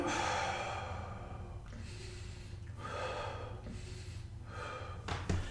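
Deep belly breathing, slow audible inhalations and exhalations repeating in a steady cycle, close and soft, with a breathy sigh-like quality and no talking.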